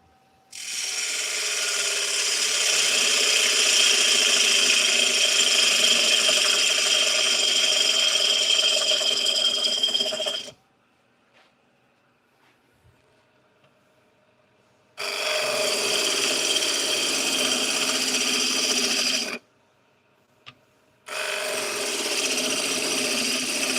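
Wood turns on a small lathe while a tool cuts and shapes it, a loud, sustained whirring rasp in long bursts of about ten and four seconds separated by quiet pauses, with no voice.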